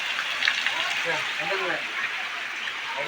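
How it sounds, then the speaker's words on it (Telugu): Heavy rain falls outside a house as a steady broadband hiss, while a person talks over it in the foreground for most of the moment. "ఈ రోజు మనకి ఎంత వాన వచ్చింది చూసారా"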